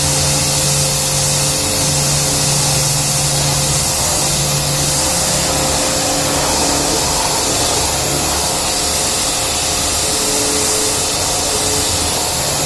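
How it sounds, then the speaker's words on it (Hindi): A machine dries the car carpet of a 2017 Toyota Corolla Grande during detailing, with a loud, steady, close blowing roar and a hum running unbroken throughout. "कारपेट ड्राई हो रहा है"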